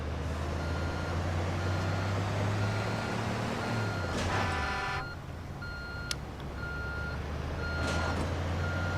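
A dump truck in the Construction Simulator 2 video game sounds steady, evenly spaced reversing beeps over a loud, constant diesel engine drone, with a brief burst of rapid beeping partway through.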